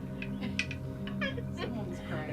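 During a tabletop fantasy game session, a voice imitates a crying, furious cat with wavering yowls and snarls. It is close and moderately loud, with other talk in the background.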